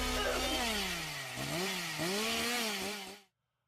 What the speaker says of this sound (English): is that a chainsaw?